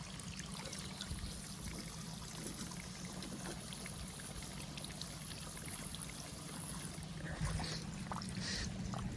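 Water runs from a pipe at a farm field, a continuous close trickling and gurgling flow with a few brief splashes near the end.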